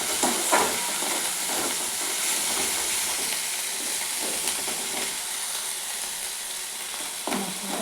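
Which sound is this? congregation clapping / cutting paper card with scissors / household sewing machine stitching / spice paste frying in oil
spice paste frying in oil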